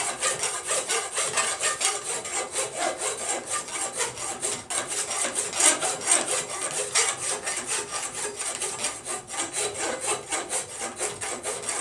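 Metal held in a vice is worked with a hand file, steady back-and-forth rasping strokes in an even, repeating rhythm, close and moderately loud with no talking.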